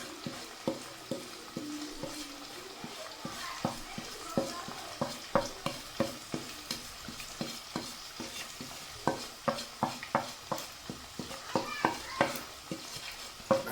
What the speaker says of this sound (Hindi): ये मसाला मेरा अच्छे से जो है वो भुनना शुरू हो गया है